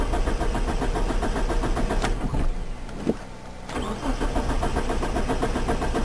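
A 1992 Mitsubishi Talon's engine cranks steadily without catching, a continuous close mechanical churn that briefly drops away for about a second before cranking resumes.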